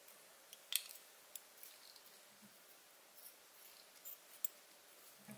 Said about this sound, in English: next I just take black sheet foam and cut it about a quarter of an inch thick